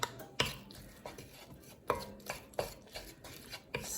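A spoon scrapes and knocks against a pot in a series of faint, irregular clacks while tomato paste is stirred into a vegetable beef soup with ground beef, with no voices.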